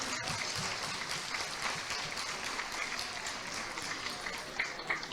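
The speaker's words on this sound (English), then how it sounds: "A big round of applause for him, folks." At a parish's 25th anniversary celebration, a crowd applauds Father Gary with a continuous, fairly distant patter of many hands clapping, steady for about five seconds with no speech over it.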